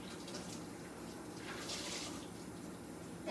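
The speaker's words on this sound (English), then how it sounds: "I'm just gonna rinse this out until there's no soap suds left" Running tap water rinses soap suds out of a washed item, a steady, even hiss of flowing water that stays fairly quiet and constant throughout, with no voices.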